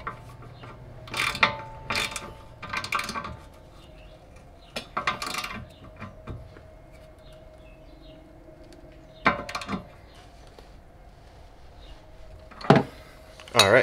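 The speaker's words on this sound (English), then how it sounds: "So we'll start tightening these down, the two 19 mils, get the bolt through." A ratchet tightens the two 19 mm suspension bolts on an Audi B5 during a coilover install, giving several short bursts of close, clicking mechanical strokes separated by pauses over a faint steady hum.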